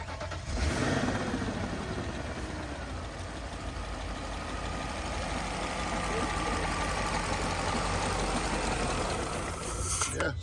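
A 2001 BMW E38 540 that needs an engine and may be short of fuel runs with a steady, continuous mid-pitched engine drone. It is close and fairly loud, holding even throughout with slight swells.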